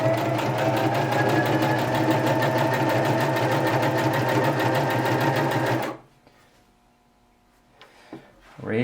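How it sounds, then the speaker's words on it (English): A Singer M1150 or similar household sewing machine runs steadily at speed for about six seconds with a loud, even mechanical whir, then stops, followed by quiet handling clicks and small rustles. "hit your pedal, and it should go"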